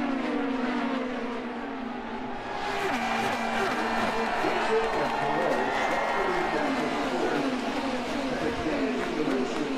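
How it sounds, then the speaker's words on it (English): Indianapolis 500 grandstand crowd roaring as IndyCars race past, a continuous dense wash of cheering blended with engine noise that swells louder partway through and stays steady. "Listen to the crowd."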